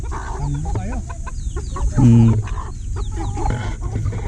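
A flock of chickens pecks at feed nearby, clucking and squawking as they squabble, with one louder, sustained squawk rising over the busy background chatter.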